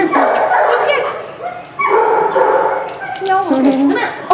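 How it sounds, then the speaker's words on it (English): Big dogs bark, yip and whimper close by in a quick succession of excited calls. "let's go see those big dogs"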